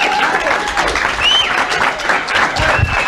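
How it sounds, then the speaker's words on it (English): A live talk-show audience claps and cheers in a dense, sustained burst of applause throughout, with a faint voice mixed underneath. "Please give a round of applause to Mr."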